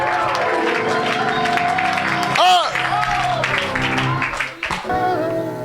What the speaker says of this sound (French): Klap voor je overwinning.